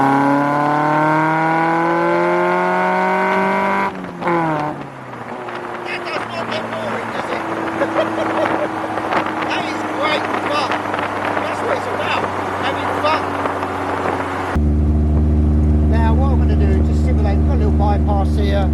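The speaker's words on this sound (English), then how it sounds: "But listen to that exhaust." Sprint 185 self-assembly car's exhaust on a road drive, engine revving up through the gears then droning at steady cruising speed, loud and close with a person talking over it.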